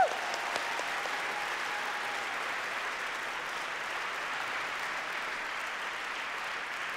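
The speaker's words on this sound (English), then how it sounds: "we would like to acknowledge them all with a big round of applause" Sustained audience applause fills a graduation ceremony hall for MPP, MIA and PhD graduates, a dense even wash of clapping at steady loudness throughout, with no talk over it.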